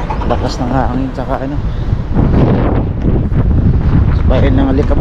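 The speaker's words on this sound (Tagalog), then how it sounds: "Lakas ng hangin" Strong gusty wind buffets the microphone outdoors in Kuwait during a dust storm, a loud continuous rumbling roar that swells and dips while a person speaks over it.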